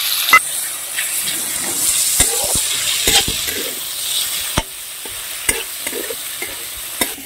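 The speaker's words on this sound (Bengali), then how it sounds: "এই চিংড়ি মাছটা আমি একটু ভালো করে ভেজে নিয়েছি" Shrimp fry with ginger in a hot pan, a steady close sizzle broken by sharp scraping knocks of a spatula stirring them around, with no voices.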